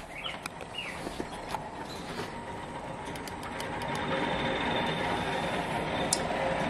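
An electric motor from a tractor conversion slowly spins a wheel at about 50 RPM, making a steady mechanical rumble with light clicking that grows louder partway through.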